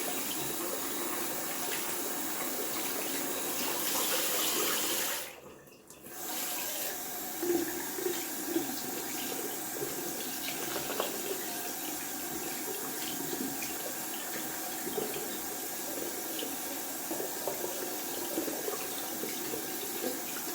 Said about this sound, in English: Gonna wash out the brush.